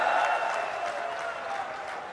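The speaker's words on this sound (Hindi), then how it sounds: "जोर से ताली बजाइए लुम्बाराम जी के लिए।" Steady crowd applause fills a short stretch at a Lok Sabha election rally in Jalore-Sirohi, Rajasthan, for candidate Lumbaram Chaudhary: dense, even clapping with no clear pauses, moderately loud throughout.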